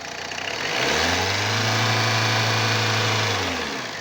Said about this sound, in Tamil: ஃபுல்லாக ரேஸ் பண்ணுப்பா